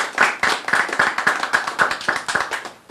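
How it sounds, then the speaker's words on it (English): Clapping for the sponsors of Emancipation Festival 2017 at a press conference, a small group or a few people clapping close by in a rhythmic string of distinct claps that stops near the end. "Give the sponsors, please, a round of applause."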